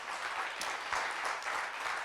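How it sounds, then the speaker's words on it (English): Modest applause from a business seminar audience honoring a board member, a steady wash of hand claps at moderate loudness with no talking over it. "Give him a round of applause."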